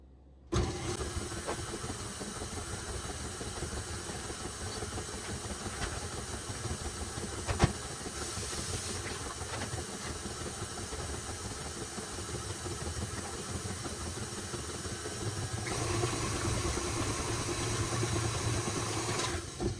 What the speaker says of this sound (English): Now we're going to beat all that together.